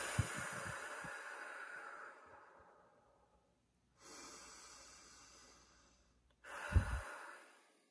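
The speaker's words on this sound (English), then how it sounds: "Go ahead and inhale." Two long, deep inhaled breaths close to the microphone, each a drawn-out airy rush that fades, separated by a pause of silence, with a brief snort-like catch near the end.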